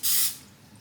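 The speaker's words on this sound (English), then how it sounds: "Then we're going to get our spray" A single short burst of cooking spray hisses onto brioche bun dough in a home kitchen, loud and close for about a quarter second before trailing off into quiet room tone.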